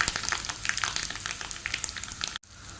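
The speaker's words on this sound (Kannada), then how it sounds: "ಎಣ್ಣೆ ಬಿಸಿ ಆಯಿತು ಸಾಸಿವೆ ಹಾಕ್ತಾಯಿದ್ದೇನೆ" Mustard seeds sizzle and crackle in hot oil for a tempering, a steady close frying hiss dotted with sharp popping bursts that cuts off abruptly near the end.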